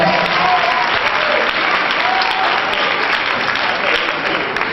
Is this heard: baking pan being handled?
no